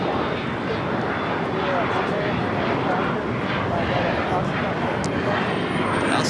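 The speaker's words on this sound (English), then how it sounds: "We also just had a A350 with Delta touchdown here on the south side." A Delta Airbus A350-900 touches down on the south side at LAX, arriving from Atlanta: a steady broadband roar of jet noise holds at a constant level throughout, with no clear peak, and a voice talks faintly underneath.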